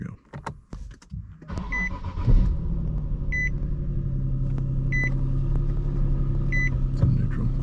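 A car with push-button start cold-starts on a mild day, a crank catching into a steady, fairly loud idle rumble that holds on, with a few faint chimes above it.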